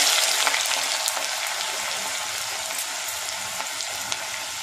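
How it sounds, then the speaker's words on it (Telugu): Onions drop into hot oil and fry with a bright, dense crackling sizzle that starts loud and eases slightly, heard close with tiny pops and no voices. "ఉల్లిగడ్డలు వేయాలి."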